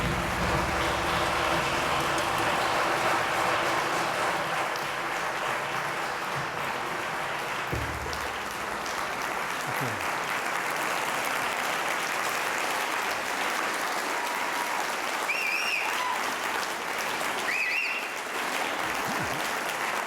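Steady audience applause in a lecture hall welcoming painter Wolf Kahn in Brattleboro, a dense, continuous clapping that holds for about twenty seconds with little variation, with a few faint voices and whoops near the end.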